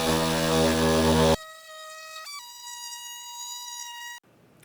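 Oscillating multi-tool cutting into a steel rear bumper on a 4Runner, a harsh loud buzz that drops to a high whining tone, shifts pitch midway, then cuts out.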